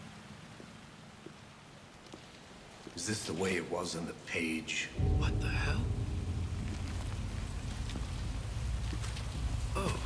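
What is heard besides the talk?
rain falling in the video game Alan Wake 2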